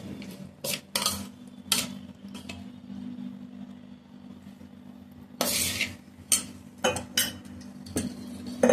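A spoon stirs red chilli pickle with lemon juice in a bowl, giving intermittent wet scrapes and clinks against the dish in short bursts with quiet pauses, close by.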